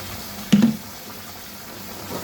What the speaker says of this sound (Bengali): আর একটু তেল দিয়ে দিলাম